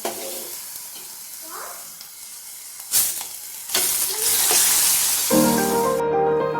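Dal hitting a hot pan for palak dal with onion, a loud burst of sizzling and frying that swells and holds, with stirring scrapes and a brief tap-water rush partway through.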